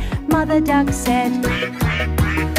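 Cartoonish duck quacks in a children's counting song about five little ducks, a run of repeated nasal quacks over bouncy music, loud and close.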